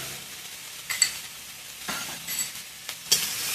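Onions frying in a pan with salt and sugar for egg curry, giving a soft continuous sizzle broken by several brief, sharper bursts as they are stirred.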